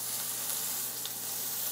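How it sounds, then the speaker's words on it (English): A NY strip steak sears fat side down in hot oil in a cast iron pan, giving a steady, loud, close sizzle that holds without a break, with no voices. "You better see some smoke and you better get some sizzle."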